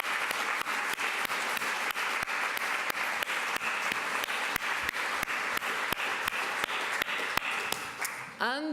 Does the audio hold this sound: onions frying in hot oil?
no